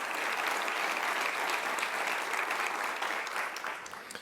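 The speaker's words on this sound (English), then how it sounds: "Let's have a round of applause for them." Sustained audience applause fills the room at a civic gathering honoring four city workers, a dense steady clapping that holds strong and eases slightly toward the end.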